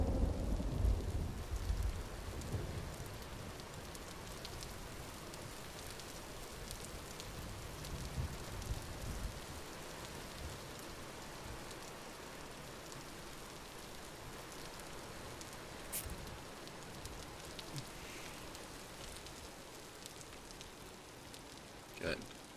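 Steady rain patters in the game Vintage Story, a constant soft wash of drops with occasional heavier low rumbles early on, distant and even throughout.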